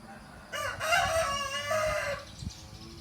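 A rooster crows once, loud and close, a single drawn-out call rising and then falling over about a second and a half against quiet background.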